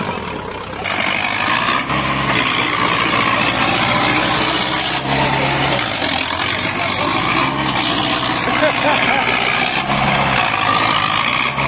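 A New Holland 5620 4x4 tractor stuck in soft ground, its heavy diesel engine roaring loud and close without pause, the pitch surging and easing as it strains.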